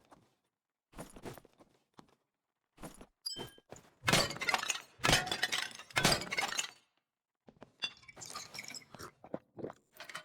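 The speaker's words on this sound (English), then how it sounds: "do our normal bit of PvE and pot smashing" Pots smashing in a video game during a quiet raid, a string of sharp breaking and clinking crashes in irregular bursts, some clustered and loud, separated by brief silences.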